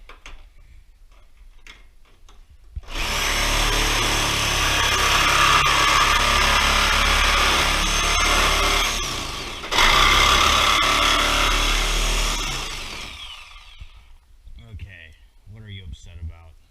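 An oscillating multi-tool cuts into the bumper of a Crown Victoria, running as a loud, buzzing roar for about ten seconds with one brief pause, then winding down before faint voices follow.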